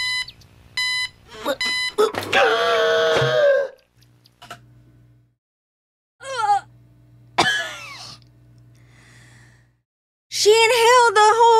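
Animated cartoon alarm effects: a series of sharp electronic beeps, then wailing siren-like tones and gasping, inhaling cartoon vocal sounds, loud with short silent gaps between bursts.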